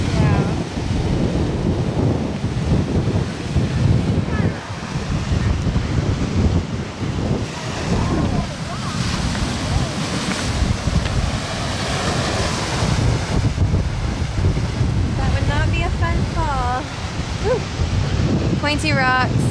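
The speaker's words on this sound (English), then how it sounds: "Pointy rocks, lots of waves." Ocean waves crashing on jagged rocks on a Hawaiian shore, a loud, continuous churning surf with heavy buffeting wind on the microphone, swelling and surging throughout, with a voice talking briefly over it.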